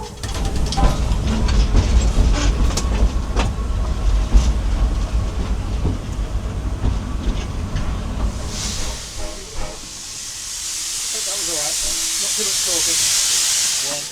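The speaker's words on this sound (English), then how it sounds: "So here what we're doing is we're coupling the locomotive to the train." A steam locomotive on the Chinnor and Princes Risborough Railway couples to its carriages, with low rumbling and clanks giving way to a loud, sustained hiss of steam; voices are heard in the background.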